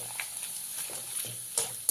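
Sliced potato wafers fry in hot oil, giving a steady close hiss broken by a couple of brief clattering knocks within a short moment, with no speech.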